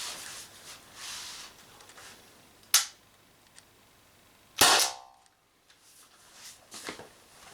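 Two sharp, loud cracks from a gas-powered Umarex TP50 pistol firing 8 gram steel balls, the second shot noticeably louder and followed by a brief hiss, with quiet ambience between.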